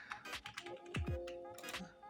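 Typing on a cheap computer keyboard with some dead keys: quick, clacky keystrokes in an uneven burst close to the mic, with a couple of low thumps midway.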